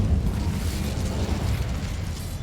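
A steady, rumbling whoosh of fire from the Incendio spell in the Hogwarts Legacy video game, loud and close, holding as one continuous roar with no speech over it.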